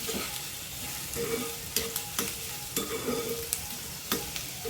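Onion sautéing in hot oil in a pan, stirred with a spatula: continuous close sizzle broken by rhythmic scraping strokes and light clinks, with no voices.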